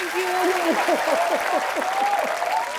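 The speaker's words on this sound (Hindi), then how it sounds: "आप सबकी जोरदार तालियों के बीच" Studio audience applause on a Hindi comedy talk show, a dense, loud burst of clapping that carries through the whole moment while a voice cheers or sings over it.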